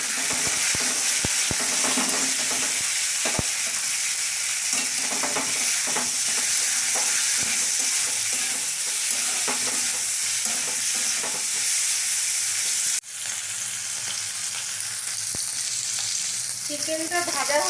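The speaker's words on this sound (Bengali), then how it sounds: "একটু হলুদ দিয়ে ভেজে নিচ্ছি।" Chicken mince fries in a pan with salt and turmeric, giving a steady, dense sizzle that runs without pause and with no talking.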